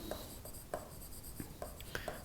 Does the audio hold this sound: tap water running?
no